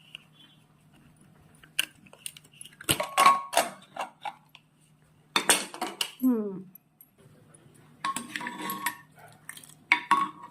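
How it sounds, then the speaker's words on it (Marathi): A home pressure cooker used for parboiled rice gruel being opened after the steam has escaped, with sharp metallic clinks and clatters of the lid and vessel in three separate bursts, nearby and fairly loud, over a quiet background hum. "उघडूया कुकर"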